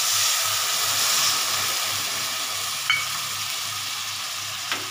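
Spices frying for ghugni, an Indian dried-pea curry, sizzle and hiss steadily in a pan after water is poured in, with a soft low bubbling and a couple of faint clinks from a utensil.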